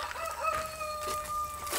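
A rooster crows once, a loud, close, strained call with bird clucks around it and no talking.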